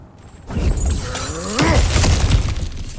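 Cracked ground bursts apart in God of War Ragnarök with a loud, close shattering crash, followed by rumbling debris and crumbling rock that settles over a couple of seconds.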